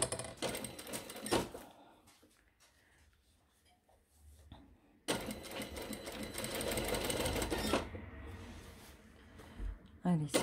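A sewing machine stitching a shirt collar runs in two bursts, a short run near the start and a longer steady stretch midway, close and clear, with someone talking between and around them.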